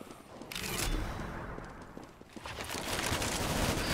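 Gunfire from the video game Counter-Strike: GO fills the whole stretch, a dense, loud burst of rapid shots with a slight dip midway before the firing intensifies again, no talk over it.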